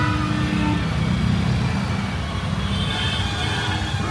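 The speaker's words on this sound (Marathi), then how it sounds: "तर मित्रांनो खूप ट्रॅफिक झालं आहे" Heavy road traffic in Bangalore city heard from inside a taxi, a steady low engine rumble and road noise throughout with no pauses.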